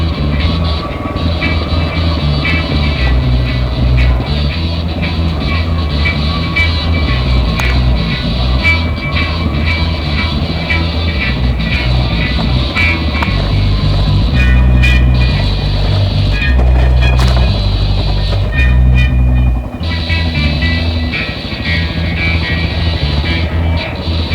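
A Honda XR600R motorcycle engine pulls steadily in third gear on a trail, a loud, continuous low rumble with shifting load throughout.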